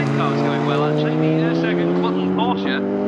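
A Porsche Cup race car at Snetterton circuit roars past on the straight, its engine a loud, sustained high-revving drone with shifting pitch, close and dominant throughout.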